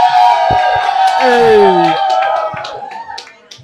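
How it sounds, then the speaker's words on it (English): An audience at a New York State yoyo contest cheers, whoops and claps loudly during a cheer vote. The roar holds strong, then fades toward scattered claps and voices. "We're having a cheer vote right now."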